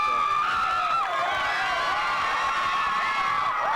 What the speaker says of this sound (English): And a very, very vocal crowd on our hands